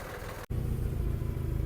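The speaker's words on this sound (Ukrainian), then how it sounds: "Наступним їде до нас Кубота GB200" Kubota GB200 compact Japanese tractor with a steady, loud mid-pitched diesel engine rumble close by, broken by a brief dropout near the start, then running on evenly.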